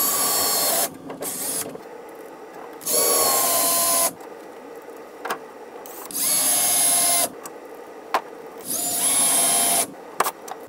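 A cordless power drill drives bolts for a corner TV wall mount with tilt and swivel into a wall. Three loud, sustained whirring runs of about a second each are heard, with short clicks and quiet gaps between them.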